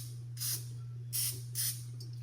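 Three short bursts of cooking spray hiss into a pan over a steady low hum, with brief pauses between them.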